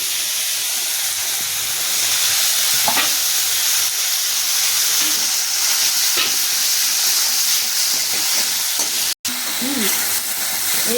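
Spices frying with tomatoes in a pan for a spiced vegetarian aubergine dish, with steady close sizzling and a few scrapes of stirring throughout, plus a brief cut-out near the end.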